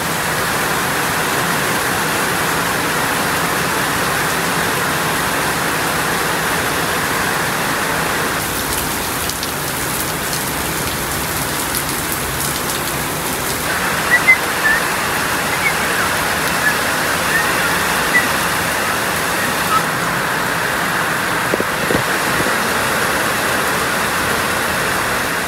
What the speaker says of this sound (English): it started to pour outside with rain